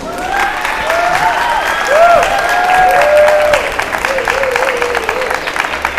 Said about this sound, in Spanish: pida un fuerte aplauso